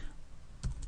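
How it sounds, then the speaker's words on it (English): A few quick keystrokes on a computer keyboard while entering a date into PHP code, two or three soft clicks clustered near the end over faint room hiss. "So now I'm going to call the function display date. I'm going to type in Monday"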